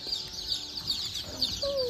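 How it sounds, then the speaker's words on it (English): Baby chicks at a farm store peep and cheep in quick high chirps over a soft background murmur, with one clearer rising peep near the end. "Wanted to check out the baby chicks at the store."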